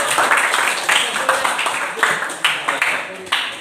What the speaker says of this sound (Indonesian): Tepuk tangan buat Frans.